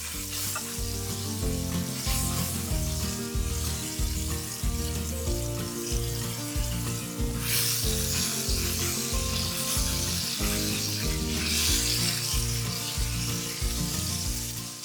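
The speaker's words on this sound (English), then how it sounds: "add in your meat and enjoy that sizzle" Smashed ground beef sizzles steadily in a hot skillet, a loud crackling hiss over a rhythmic musical backing.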